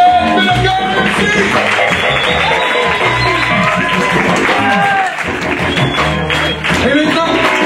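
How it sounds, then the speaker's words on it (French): Audience at a Montreal slam poetry night applauding poet Fred, sustained loud clapping and cheering filling the room, with a host's voice talking over it. "On applaudit Fred"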